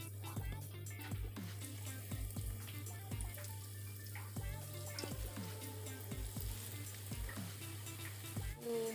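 Banana pieces fry in hot oil over medium-low heat, giving a steady soft crackle and sizzle with a low hum and small clinks, fairly faint throughout.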